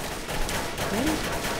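Gunfire in the Left 4 Dead 2 video game, a cluster of quick, fairly loud shots running together over busy game noise, with a brief tonal sound partway through.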